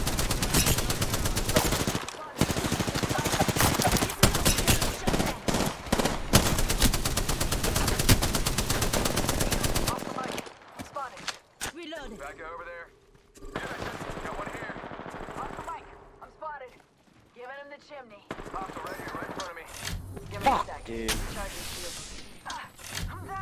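Loud sustained automatic gunfire in the shooter game Apex Legends fills the first ten seconds, followed by scattered quieter shots and game effects, with talking and voice callouts over the later part.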